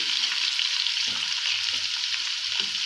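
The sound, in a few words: green chillies frying in mustard oil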